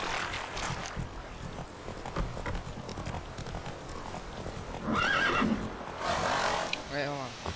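The horse Roach in The Witcher 3 whinnies and clip-clops at a trot amid game ambience, with a player talking over much of it.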